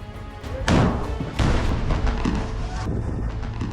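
Loud booming blasts and cracks of gunfire ring out amid ruins in Gaza during the Israel–Hamas war, a heavy explosion followed by another, with rumbling echoes between.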